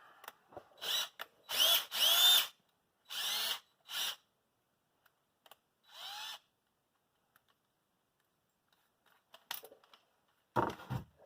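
A power drill bores a pilot hole into the seat of a Cub Cadet 1882 lawn tractor, sounding as several short whining bursts of varying length with quiet gaps, then a final burst near the end.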